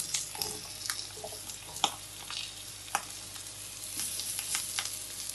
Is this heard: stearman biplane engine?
no